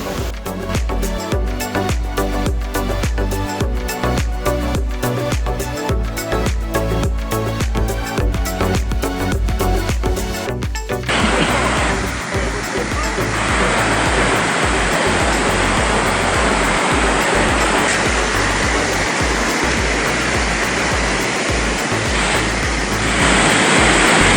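Water from YS Falls in Jamaica rushes loudly and constantly, at first under rhythmic music and then alone as a dense, close roar.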